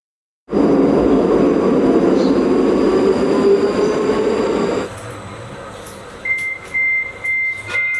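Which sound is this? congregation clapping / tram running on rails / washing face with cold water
tram running on rails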